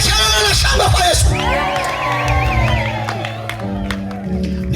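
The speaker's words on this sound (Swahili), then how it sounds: "Piga kelele na shangwe kwa Yesu." A church crowd gathered for a pastor's open-air meeting shouts, whoops and cheers for Jesus, a loud, dense burst of many voices that rises sharply at first and then carries on with sustained, overlapping cries.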